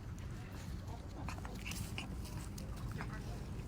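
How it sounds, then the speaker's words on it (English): A corgi puppy chews and bites during play with its littermates, giving soft irregular crunching and gnawing noises close by under steady background hiss, with people's voices faintly present. "No, just chewing."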